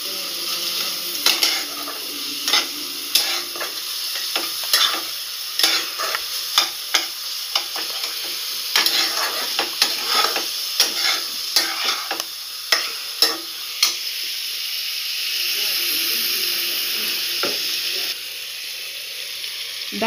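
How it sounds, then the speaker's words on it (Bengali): Fried moong dal and vegetables stirred in a pan for vegetable dalia, with a steady sizzle under repeated close scraping and clattering spoon strokes, the stirring easing off near the end. "ডালটা দিয়ে ভালো করে নাড়াচাড়া করে নিয়ে"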